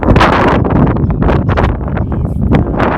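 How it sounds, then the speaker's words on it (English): Strong afternoon gusts of wind batter a microphone at Downsview Park, Toronto, producing loud irregular rumbling bursts with no voices. "A windy afternoon."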